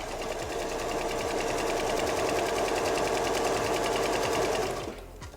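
A sewing machine stitches a quilt sample with a steady, fast, even mechanical whir that runs continuously and close up, then stops near the end, leaving quiet room sound.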